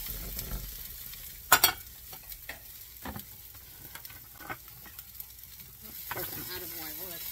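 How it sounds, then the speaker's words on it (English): Ham hash stirred and frying in oil in a pan, a steady sizzle with scraping stir strokes and a sharp clatter early on, close by, with no talking. "onion powder, stir it up, and then I'll leave it alone for a minute"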